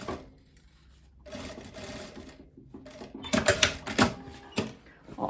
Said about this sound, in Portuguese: E faz o pespontinho por cima, ó.